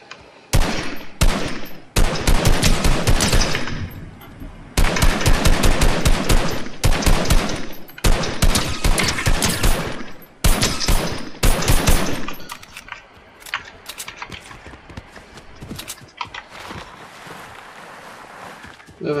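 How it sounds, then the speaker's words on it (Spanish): Rapid bursts of automatic gunfire in Fortnite crackle repeatedly at close range, with several long volleys and a few isolated shots, then quieter gaps toward the end. "Por allá hay disparos"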